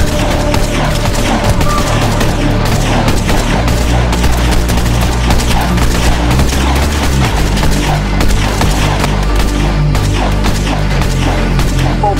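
Dense, continuous automatic gunfire from a player-versus-player fight in the video game Ark: rapid, loud bursts with booming impacts keep going without a pause for the whole stretch.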